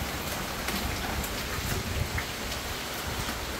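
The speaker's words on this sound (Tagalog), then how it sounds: "Although wala pa ring tigil yung ulan." Steady, heavy rain pours down outside a flooded house during Typhoon Carina, a dense continuous hiss of drops drumming on surfaces with no pause.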